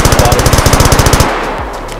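Loud, rapid automatic gunfire in the video game DayZ: a fast, steady burst of about twenty rounds that cuts off abruptly into quieter ambience.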